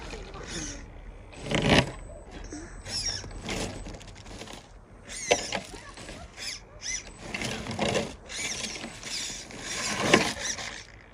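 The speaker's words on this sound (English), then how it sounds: "this stock motor can't really handle all the power from the ESC" A WLtoys 12429 RC crawler's overpowered stock motor strains and whines in repeated bursts on snowy trails, with grinding, ratcheting mechanical noise rising and falling close by.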